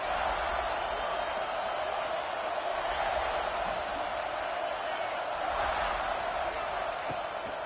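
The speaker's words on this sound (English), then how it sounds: "This crowd ready to make its presence known." Dense, steady roar of a football stadium crowd cheering during a game, a broad continuous wash of voices holding at an even level throughout with no clear breaks.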